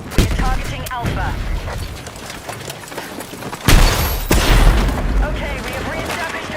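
A frag grenade explodes amid gunfire in a video game, with heavy booms and rattling shots at the start and a big blast about halfway through, while voices talk over the action.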